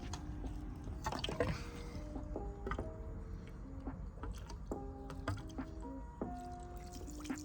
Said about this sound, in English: So let's start draining this tank.